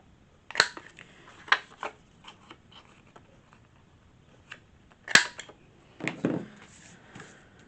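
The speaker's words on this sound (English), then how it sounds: "let's corner round it first" A corner rounder punch cuts paper for a junk journal, giving a few sharp, close clicks spaced a few seconds apart with faint handling rustle between them.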